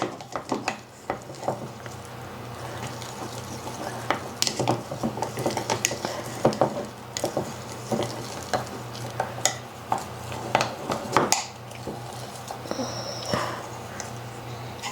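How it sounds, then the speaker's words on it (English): Sourdough starter stirred with a fresh wooden stick in a container, close, repeated scraping and knocking strokes in an uneven rhythm with wet sticky clicks, over a low steady hum. "And I did get a fresh stick to stir it up."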